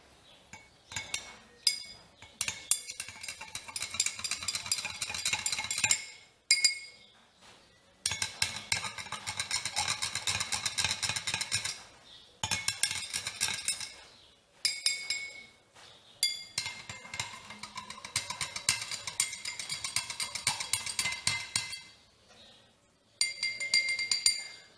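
Glass clinking as two-stroke oil is stirred into gasoline in a glass: quick, bright tapping and chinking in long bursts, separated by short pauses.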